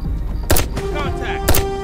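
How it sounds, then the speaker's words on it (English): Flashbang throw and sharp gunfire in the tactical police shooter game Hot Brass, with two loud broadband bangs about a second apart over steady background hum and a faint tonal ring, close and without speech. "Throwing flashbang."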